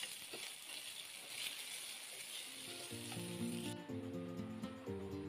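Pork sizzles steadily in a hot pan while being stir-fried for Korean japchae, a soft continuous frying hiss with faint clinks near the end, no talking.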